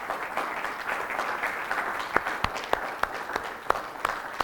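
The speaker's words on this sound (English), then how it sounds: "If we can all give the team at Carolans a nice round of applause for putting on the night." A seminar audience at Carolans gives the venue team a round of applause: a moderate, steady patter of many hands clapping, with a few louder, sharper claps cutting through near the end, and no speech.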